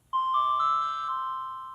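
Skoog soft cube instrument voicing a breath patch at a raised octave, a bright, pure whistly tone that starts abruptly, holds with a slight wobble and slowly fades, heard alone.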